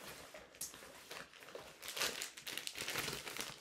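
A 1-liter plastic bag from the front pouch of a Gregory Amber 55L backpack crinkles and rustles in close, irregular bursts that grow busier toward the end, with no talking.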